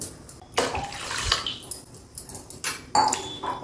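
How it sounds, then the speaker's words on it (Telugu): Water pours and splashes into a pot in uneven bursts, with brief pauses and a few clinks between pours. "ఒక 2 గ్లాసులు నీళ్ళు పోసుకోండి."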